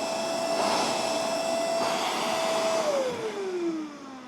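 A MOOSOO cordless wet/dry shop vacuum running on a Makita battery, a loud steady motor whine and airflow rush that drops in pitch near the end as the motor winds down.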